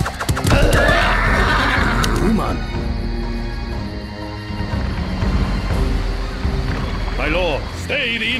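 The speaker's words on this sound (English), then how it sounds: "My lord Heracles, strange warriors from the north have set upon us, and they ride horses, a most fearsome sight to behold." Horses neigh and whinny in the Empire Earth PC strategy game, Greek campaign battle, with a loud close whinny at the start and more neighing near the end, under dramatic spoken narration.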